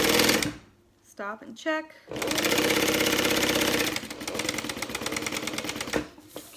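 Sewing machine stitching a zipper pouch with a shortened stitch length, fast rattling bursts of stitching that stop and start, a voice speaking briefly between runs.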